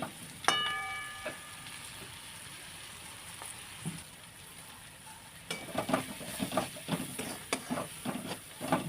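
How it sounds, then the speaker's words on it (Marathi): Ground spices for a matar mushroom curry, including salt, kitchen king masala, coriander powder, garam masala and kasuri methi, frying in hot oil in a pan, with a soft steady sizzle and intermittent scraping stirs growing busier near the end. "आता हे मसालासुद्धा तेलामध्ये व्यवस्थित फ्राय करून घेतले"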